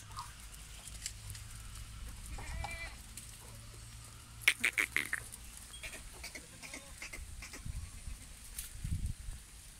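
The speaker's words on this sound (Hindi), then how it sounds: "बकरियाँ ये अच्छी बकरियाँ हैं" Goats on a farm bleat faintly a few times, with a brief cluster of calls in the middle, over low rustling, shuffling and distant background noise.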